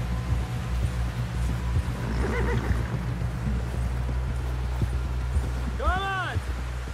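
Horse in the video game Red Dead Redemption 2 gives a loud whinny near the end, over a steady rumbling ride with hoof clatter and background noise.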